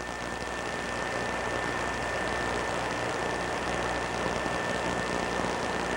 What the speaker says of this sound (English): For John Young, this takeoff will be a very familiar scene.